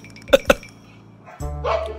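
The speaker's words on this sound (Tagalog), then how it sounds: "Aso pa rin yan." A dog gives two sharp, close barks in quick succession, followed by a pause and then a lower rumbling growl-like sound at the end.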